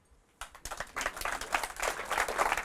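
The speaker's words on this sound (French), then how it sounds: "je pense que je pourrais dire n'importe quoi et ça provoque les applaudissements" Audience applause after a magician's remark, starting abruptly and building into sustained dense clapping from a crowd, fairly close and steady.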